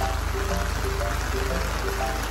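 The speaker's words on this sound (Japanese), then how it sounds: "なんかすごい雨降ってきたね" Heavy rain pouring outdoors, a dense, steady hiss of drops drumming on surfaces with trickling water, close and continuous throughout.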